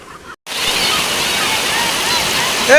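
A waterfall roars as a steady, loud wash of rushing water close by, following a short break at the start, with a faint whistle-like tone near the end.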